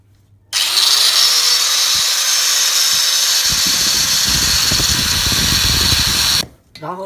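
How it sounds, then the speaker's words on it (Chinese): A power cutting machine slices through a copper-wound electric motor, starting abruptly into a loud, harsh, sustained grinding whine for about six seconds with rough lower rumbling underneath, then cutting off sharply. "我们用这个切割机把这个都给它切下来。"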